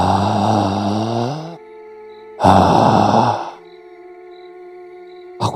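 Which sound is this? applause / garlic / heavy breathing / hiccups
heavy breathing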